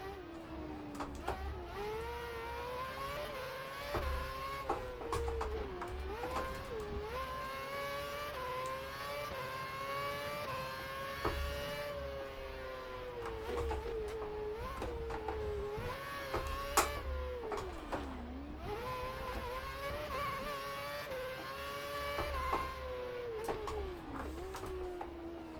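Williams Formula 1 car racing at the Singapore Grand Prix in the F1 2011 video game, a continuous high engine whine rising and falling through gear changes and braking, steady and loud throughout with no talk.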